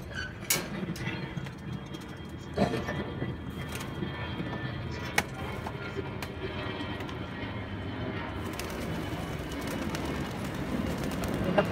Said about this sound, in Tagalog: pakakawalan na natin mga kaibon